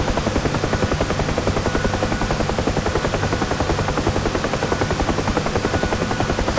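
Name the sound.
UH-1 Huey helicopter in flight, DCS World video game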